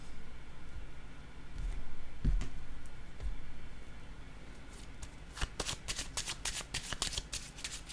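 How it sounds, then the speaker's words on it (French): Tarot cards are handled and shuffled close by, with a few soft taps early on, then a quick run of crisp riffle-like flicks as cards fall. "Les cartes sont en train de tomber."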